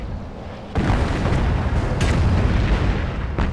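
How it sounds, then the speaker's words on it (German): Enemy anti-tank fire in Company of Heroes, Stalingrad 42 mod: a heavy boom starts a dense, sustained roar of battle blasts and explosions that stays loud to the end, with no voices. "Die feindliche Panzerabwehr beschießt uns!"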